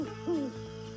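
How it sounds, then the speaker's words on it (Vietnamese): An owl hoots in a single close, clear call that rises and falls, set in a night scene over a steady low background tone. "Bé cú đi săn vào ban đêm."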